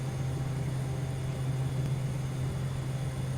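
Propeller airplane just after takeoff in the flight video game Air Hauler 2, a steady low engine drone with a constant hum and broad wind noise, unchanging throughout.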